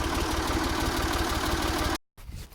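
Tractor engine idling under a hay barn on a farm, a close, steady low throb with regular rhythmic pulses that cuts off abruptly near the end, followed by quieter background.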